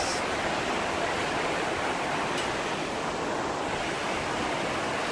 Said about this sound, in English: The water is just rushing.